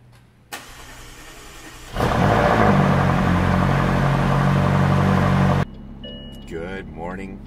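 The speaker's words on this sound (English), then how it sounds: "Good morning from the cockpit of my McLaren 540C." A McLaren 540C engine starts with a loud burst and settles into a steady, strong rumble for several seconds before cutting off, leaving a quiet cabin with faint chirps.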